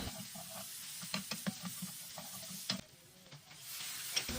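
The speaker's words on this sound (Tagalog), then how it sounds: "tapos igigisa na natin itong bawang at saka yung sibuyas" Garlic and onion sauté in oil, a soft continuous sizzle broken by frequent spatula scrapes and stirring knocks in a quiet kitchen, with no talking.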